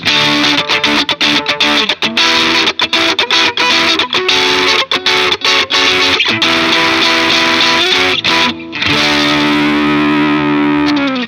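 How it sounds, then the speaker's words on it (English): Overdriven electric guitar through an overdrive pedal on the neck and middle pickups, loud and continuous, with strummed chords and short choppy breaks giving way to sustained ringing notes near the end. "So I'll have the overdrive pedal on with the neck and middle pickup on the strap."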